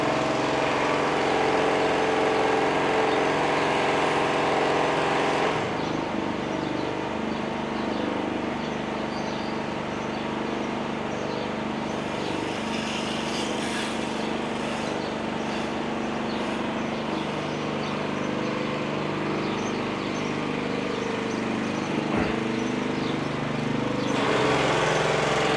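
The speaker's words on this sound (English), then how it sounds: "that guy there, jet washing." Pressure washer jet washing in a town centre, a steady loud motor drone with hissing spray that runs continuously throughout, shifting slightly in tone partway through.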